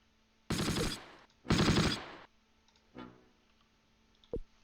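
Gunfire in the Close Combat wargame during a tank engagement: two loud sustained automatic bursts close together, then a softer short rattle and a single sharp crack near the end.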